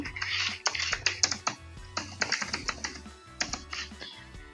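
Rapid, uneven keystrokes on a computer keyboard as a search is typed into a new browser tab, close and fairly loud, clustered in quick bursts with short pauses and no voices.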